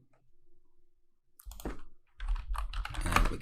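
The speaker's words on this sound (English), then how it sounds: "and we can type something" Computer keyboard being typed on, a near flurry of quick clicky keystrokes that starts after a quiet pause and grows busier toward the end, with no talk.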